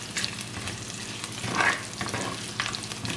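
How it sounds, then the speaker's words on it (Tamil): Curry leaves and a baby jackfruit curry base sauté in a pan, with a steady soft sizzle broken by a few louder scraping stirs near the middle, close and alone with no voices. "இப்ப மிக்ஸ் பண்ணி போட்டு ஒரு 2 அல்லது 3 நிமிஷம் வதங்க விடுவோம்"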